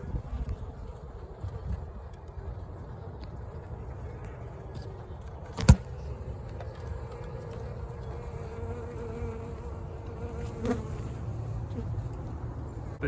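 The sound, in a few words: honeybees buzzing while a nuc is installed into a hive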